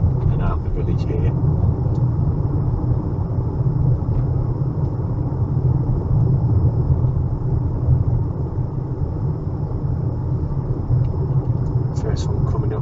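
Car driving along the main road through a village, recorded from inside: a steady low engine and road rumble continuing throughout, with faint occasional rattles.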